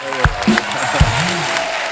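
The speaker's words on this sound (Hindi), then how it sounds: "एक जोरदार तालियां हो जाए यार" Studio audience applause on The Kapil Sharma Show, a TV comedy show: a steady wash of clapping for about two seconds with a few sharper claps standing out, and voices heard over it.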